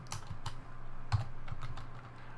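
Quick irregular clicking of computer keyboard keys while entering Ruby code, close and fairly quiet, a short burst of keystrokes with no speech.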